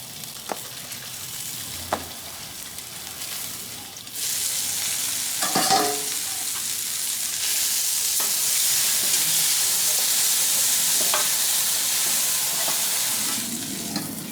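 Bologna burgers fry on a flat-top griddle with a continuous close sizzle. The sizzle grows louder partway through, with occasional scrapes and clicks over it.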